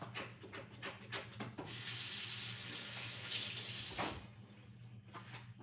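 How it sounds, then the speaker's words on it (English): Tap water gushing into a sink for about two seconds while hands are washed, bracketed by softer rubbing and splashing before and after. "what I'm gonna do is wash my hands"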